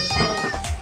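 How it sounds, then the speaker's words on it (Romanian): A single short cat meow, close and clear, heard during a shopping trip with children. "Ia să văd, Andreas, pisica"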